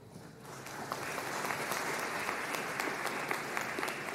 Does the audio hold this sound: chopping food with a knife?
no